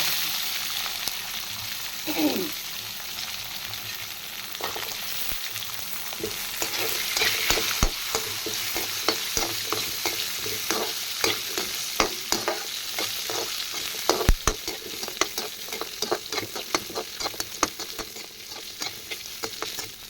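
Shallots frying and being stirred in a pan for goat liver curry, a steady close sizzle broken by frequent sharp spatula scrapes and clicks, alone without talk.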